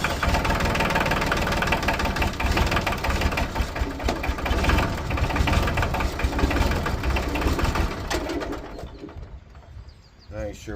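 A New Holland T30 tractor engine runs loud and steady with a knocking, rumbling idle that fades near the end, with bird cooing mixed into the background.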